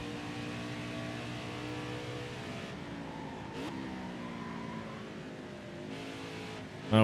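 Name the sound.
race truck engine driving away, NASCAR Heat 5 video game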